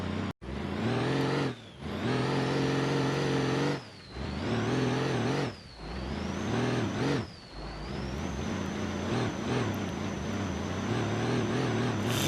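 Simulated car engine in BeamNG.drive thrashed along dirt roads, loud and continuous with repeated revving surges, brief dips between gear changes and a steady high whine throughout, no talk.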